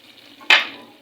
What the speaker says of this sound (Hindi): दाल में लग गया तड़का।